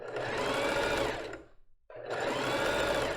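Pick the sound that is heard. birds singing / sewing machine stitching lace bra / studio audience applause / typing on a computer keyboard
sewing machine stitching lace bra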